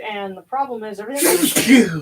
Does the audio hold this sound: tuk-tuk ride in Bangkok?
no